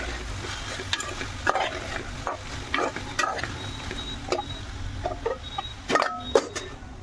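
Okra frying in a pan while being stirred, a steady sizzle with scattered scraping clicks and knocks from the spoon.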